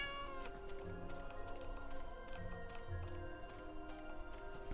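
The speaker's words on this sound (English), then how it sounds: "I heard a kitty. Hi, kitty." A cat meows repeatedly in the fantasy role-playing game Neverwinter Nights 2, several short mews standing out over a steady layer of game music and ambience.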